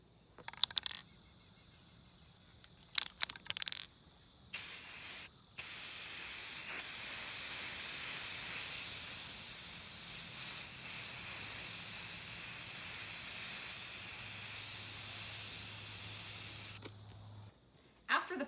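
An aerosol can spraying paint onto wooden 2x4 pumpkins, a steady close hiss lasting about twelve seconds after a few short test bursts, alone without talk.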